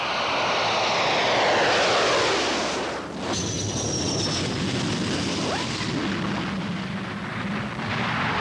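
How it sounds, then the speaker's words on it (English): Carrier aircraft engines roar loud and steady during aerial refueling, a broad continuous drone that dips briefly midway and then holds. "The aircraft carefully position each other, catching the drogue from the refueling line on the nose probe."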